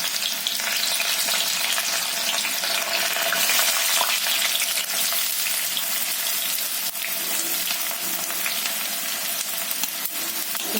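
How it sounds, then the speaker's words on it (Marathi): Onion frying in hot oil in a pan for spicy egg bhurji, a loud, dense, continuous sizzle close up with light stirring throughout and no voices. "तेल तापलं, मी आता ना कांदा घालते। थोडा कांदा घालते, नंतर कढीपत्ता घालते।"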